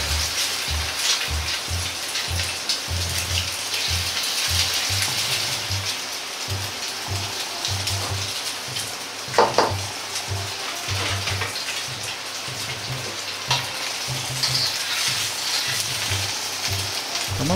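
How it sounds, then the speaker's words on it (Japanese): A fried egg, made as a topping, sizzles in a pan with a steady crackling hiss and a few louder pops along the way, close up and with no voices. "トッピングの目玉焼きを焼いていきます。"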